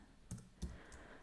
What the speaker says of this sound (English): Let's type ls-l space